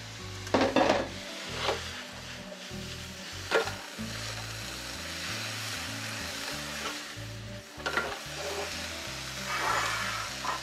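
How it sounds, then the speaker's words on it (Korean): Bean sprouts and green bell pepper tossed in a hot pan for yaki udon, giving a steady sizzle broken by sharp spatula clacks against the pan at irregular intervals, close and without talk. "다음으로 숙주와 피망을 넣고 다시 한번 살짝 볶아주세요"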